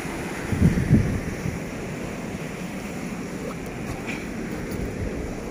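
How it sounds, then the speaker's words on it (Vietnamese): Rough sea surf rolls onto North Lang Van beach, a continuous wash of breaking waves mixed with wind buffeting the microphone, steady and fairly loud throughout, with a slightly stronger surge near the start. "biển sóng này, biển động này."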